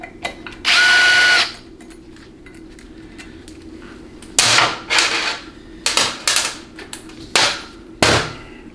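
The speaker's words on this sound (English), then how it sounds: "you could just remove them with an impact if you want" An impact wrench removes bolts from a 4L60E transmission pump, a steady whir followed by a series of short, sharp rattling bursts with brief pauses between them, close and loud.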